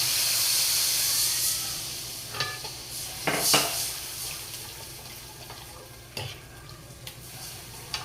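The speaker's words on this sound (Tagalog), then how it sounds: "Lalagyan ko siya ng tubig isang tasa." A cup of water poured into a hot pan of sweet and sour tilapia sauce with tomato paste hisses and steams loudly at first, then dies down to a softer sizzle broken by a few sharp stirring clatters.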